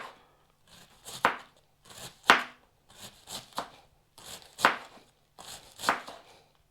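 A knife chops red cabbage on a board for sauerkraut, sounding as six or seven crisp, separate cuts spaced about a second apart, close and fairly quiet, with no talking.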